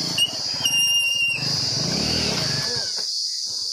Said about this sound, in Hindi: बंद हो गया विपिन चाचा की मोटरसाइकिल